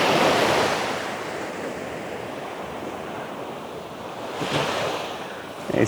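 High waves roll in at Davutlar beach on the Aegean coast, a steady broad roar of surf that swells slightly near the end, with wind buffeting the microphone and no voices.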